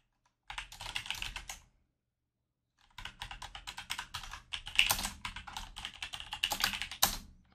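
Computer keyboard typing comes in two runs of quick, close clicking keystrokes separated by a short silent pause, with no talk.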